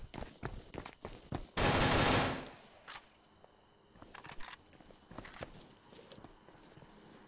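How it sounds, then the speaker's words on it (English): Automatic-weapon fire in the ArmA II video game, with scattered shots and a dense burst early on, fairly distant and faint, followed by quieter pops. "Yo, who's shooting up here?"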